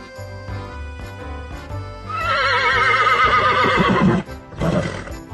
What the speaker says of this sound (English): Horse says, neigh, neigh.